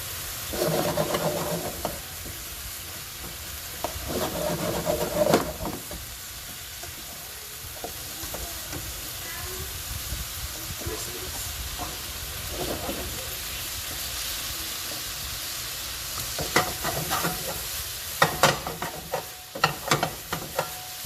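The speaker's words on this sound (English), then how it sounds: "I finished stir frying my veggies" Vegetables including bamboo shoots and chestnuts sizzle and hiss steadily in a hot pan, with bursts of scraping and tossing as they are stir-fried; no talking.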